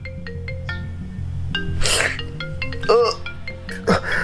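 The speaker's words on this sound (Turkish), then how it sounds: "Kesin yine Konşan arıyor değil mi arkadaşlar" A phone lying on the corner of a bed rings at night with an incoming call, its melodic ringtone playing a steady run of tones throughout, mixed with a few sharp breathy noises and vocal sounds nearby.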